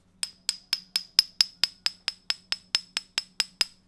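A piece of silver struck over and over, giving about fifteen bright, metallic pings in a quick steady rhythm, each ringing briefly before the next, close and clear with no speech.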